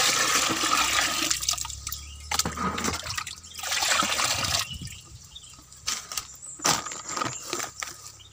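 Liquid nitrobacter solution, about two litres, poured into a container to dissolve SP36 fertilizer, giving a steady trickling, splashing pour that runs for several seconds before breaking into intermittent drips and splashes, close by with no talk.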